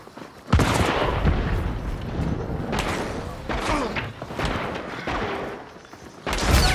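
Heavy video game gunfire with explosive ammunition, booming thuds and rapid blasts sustained over several seconds, loud and close, with voices heard amid the shooting.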